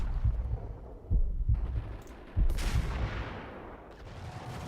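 Sniper rifle fire in the Max Payne game, several heavy low booms at irregular intervals, with sharper cracking blasts followed by long fading echo tails, close and loud.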